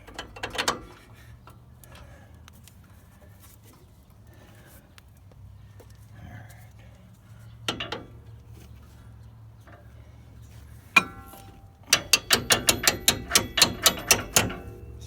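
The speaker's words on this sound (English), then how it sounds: "So, got that bolt back in to attach the strut." Metal bolt being threaded back in to attach a strut on a Nissan Xterra during a Rough Country leveling kit install with a spacer fitted, heard as a quick run of close, sharp ratcheting clicks near the end after quieter scattered handling knocks.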